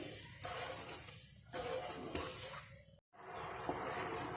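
Sugar syrup for makhadi halwa bubbles and hisses in a pan, a steady close sizzle with a few brief stirring knocks and one short break.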